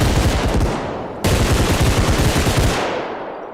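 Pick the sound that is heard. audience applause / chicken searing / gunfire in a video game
gunfire in a video game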